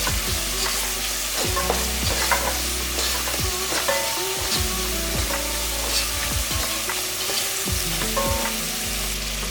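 Ginger garlic paste and salna masala fry in hot oil with a steady loud sizzle, broken by repeated scraping stirs of a spoon through the pan, no voices.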